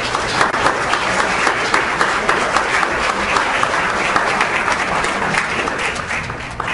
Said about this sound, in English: So everyone, let's give them a round of applause.